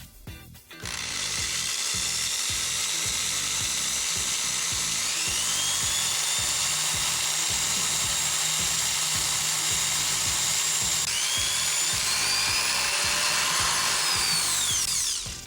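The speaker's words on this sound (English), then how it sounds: "Let's see how well this thing can withstand a power drill." A power drill whines loudly and steadily for about fifteen seconds, close up, boring into an e-ink magazine display, with a grinding buzz underneath and the pitch shifting slightly as it bores in.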